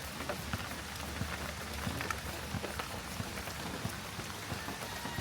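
Steady rain falls and patters on surfaces, with scattered sharper drips standing out against the constant hiss; no voices.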